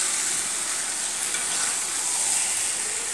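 Curry being sautéed in a pan gives a continuous, dense sizzling hiss with faint stirring texture, steady and fairly loud from start to finish with no talking.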